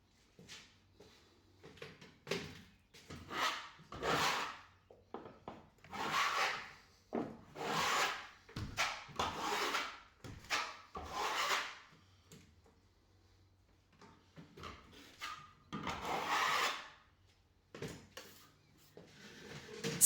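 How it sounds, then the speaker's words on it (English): Scraper or trowel spreads quick dry joint filler over mesh tape on a cracked ceiling in repeated close scraping strokes, each a second or so long, separated by short pauses. "Plaster over mesh tape with quick dry joint filler."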